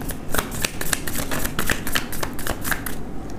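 A tarot deck with animal-themed cards is shuffled by hand in quick, papery riffling bursts that come in close, irregular flurries with no talking.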